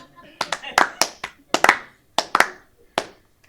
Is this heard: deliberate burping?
no